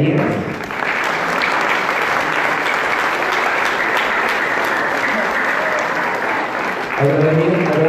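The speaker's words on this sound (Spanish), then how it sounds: "Yo quisiera pedirle a todos nuestros hermanos presentes brindar un fuerte aplauso a las quinceañeras." Loud, sustained applause from the congregation at a Mass celebrating quinceañeras, dense clapping filling the church for several seconds with some voices mixed in near the end.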